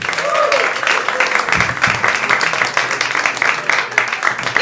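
A live comedy club audience applauds their show host in steady, dense clapping that fills the room, with a voice briefly calling out over it.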